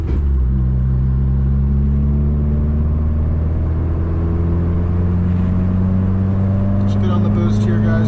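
A tuned 2015 Subaru WRX with its FA20DIT turbo engine pulls hard on boost, its drone rising steadily in pitch and loudness from inside the car as someone talks over it.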